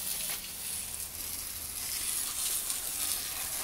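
Water spray rinses grime off a 1973 Chevrolet Caprice convertible, a steady broadband hiss that runs unbroken for the whole stretch with no talking.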